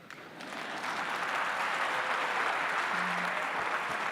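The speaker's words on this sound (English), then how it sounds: "You can clap, clap, clap." A steady wash of applause from a crowd at a youth leaders' discussion forum on Africa, building in the first half second and then holding evenly to the end.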